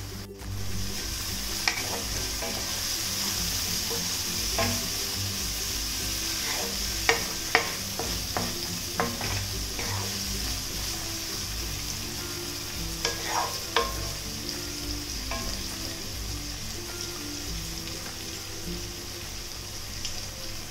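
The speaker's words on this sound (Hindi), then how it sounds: "अब एक मध्यम आकार का टमाटर बारीक काट कर डालें और इन्हें तब तक भूनें जब तक ये गल न जाए।" A finely chopped medium tomato frying in a pan until it softens, with a continuous soft sizzle and intermittent clicks and scrapes of a spoon stirring, close but fairly quiet.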